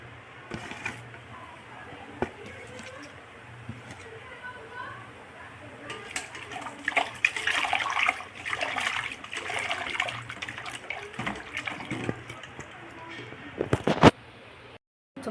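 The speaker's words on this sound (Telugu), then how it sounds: "వాటర్లో శుభ్రంగా కడుక్కొని" Galijeru leaves are washed by hand in a vessel of water, with sloshing and splashing that swells in the middle and ends with a brief pause, while a voice is heard at times.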